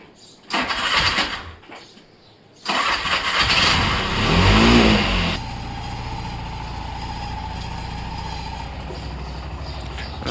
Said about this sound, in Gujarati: એ રિક્ષા ચાલુ કરી નાખી છે.